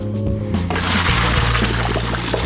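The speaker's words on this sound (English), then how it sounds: "grab my noodles now, stir them because they're done, and I'm going to pour them into my colander" Cooked macaroni noodles poured from a pot into a colander in a kitchen, a steady rushing splash of water draining through with a low hum underneath, continuous and fairly loud.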